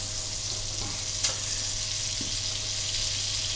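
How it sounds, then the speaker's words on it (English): Butter and oil sizzle steadily in a hot pan, a constant crackling hiss with a faint clink partway through. "You can see it's really sizzling up there, and that's what you want."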